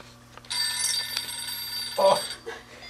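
An office telephone at a candy company rings with a bright electronic warble, a steady burst lasting over a second and then a shorter closer trill, over a low background hum.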